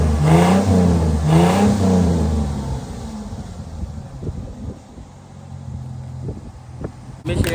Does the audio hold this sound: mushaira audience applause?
no